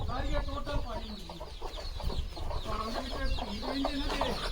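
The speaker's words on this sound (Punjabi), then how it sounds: "ਇਹ ਮਤਲਬ ਇਹ ਸਾਰੇ ਪਹਾੜੀ ਮੁਰਗੇ" Several hill chickens cluck and chatter nearby on a farmhouse in overlapping bursts, a busy farmyard chorus with a low background hum.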